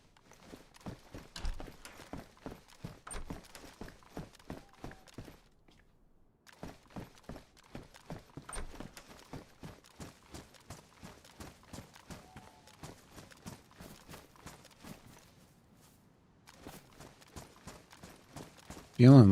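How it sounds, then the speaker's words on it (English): Footsteps in the DayZ survival game on the Chernarus map thud in steady, rhythmic runs of clip-clop-like steps, moderately close, pausing twice before resuming. "I was hearing footsteps"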